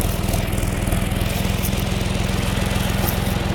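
A farm tractor running steadily while hauling pumpkins, its engine producing a continuous, even low drone with a fast regular pulse. The engine sounds close and stays at one level throughout, with no voices.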